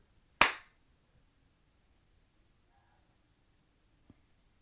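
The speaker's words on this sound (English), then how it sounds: "Should I clap? I'm gonna clap." A single sharp hand clap, made at home as a sync marker for a recording, rings out loud and close near the start. Near silence follows, with one faint tap a few seconds later.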